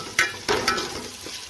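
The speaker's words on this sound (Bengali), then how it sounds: "ভালো করে মুগ ডালকে ভেজে নেব।" Moong dal frying and being stirred in ghee and refined oil with cardamom, cinnamon and bay leaf, giving a soft sizzle broken by a few sharp scraping stirs, close and moderately loud, with no speech.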